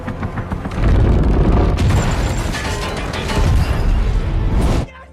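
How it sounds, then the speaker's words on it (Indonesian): An explosion in an action-adventure video game hits a helicopter, which then crashes into a building: a loud sustained blast and crashing roar lasting several seconds, then cutting off abruptly. "Ledakan yang dihasilkan berhasil mengenai helikopter Braddock, membuatnya hilang kendala lalu menabrak gedung."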